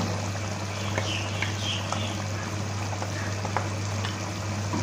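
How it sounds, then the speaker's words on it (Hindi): Yogurt goes into a pan of black pepper mutton (kali mirch gosht) cooking over medium flame: a steady, moderately loud sizzle and crackle with soft pouring and a few light pops, no talk. "अब हम इसमें अपना दही ऐड कर रहे हैं।"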